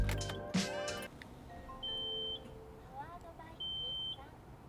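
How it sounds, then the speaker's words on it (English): A Ressha melody box, a JDM car accessory powered from 12 volts, gives two short, steady electronic chime tones close by, each lasting about half a second, after a brief burst of voice at the start. "it's going to go ahead and make our chime"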